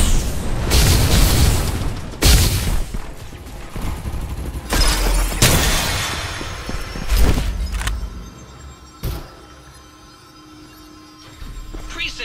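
Precision bombing in the PC game Farlight 84 sets off a string of loud, heavy booms and blasts over several seconds, then the action thins to a few quieter pops.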